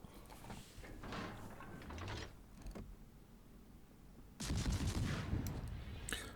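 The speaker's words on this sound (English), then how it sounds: "I'll shoot the Makarov behind the island." Naval guns fire at the Soviet cruiser Makarov in World of Warships, mechanical turret clanks and scattered shots giving way to a loud burst of salvo fire near the end.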